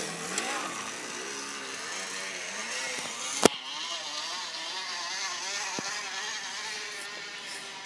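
A pedal bicycle rigged to mimic a motorbike makes a steady, buzzy engine-like drone with wavering pitch and a sharp click partway through, fairly close and without talk.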